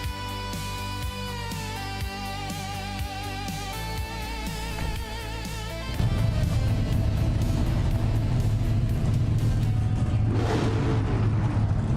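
A race car engine in a racing game at Highlands Motorsport Park Short Track sits at a steady tone before the start, then surges into loud, sustained acceleration as the race kicks off.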